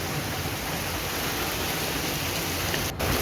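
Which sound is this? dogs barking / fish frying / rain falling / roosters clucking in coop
rain falling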